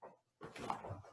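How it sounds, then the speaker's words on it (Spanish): Dogs give a couple of short, faint barks somewhere in the background of a home during an online math class. "disculpen mis perros"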